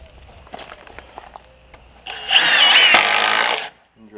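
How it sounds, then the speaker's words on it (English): A power drill drives a fastener into a 2x4 set flush with a window frame in a post-frame barndominium, one loud whirring burst of about a second and a half, preceded by quieter handling knocks and a brief voice. "So I'll drill that in."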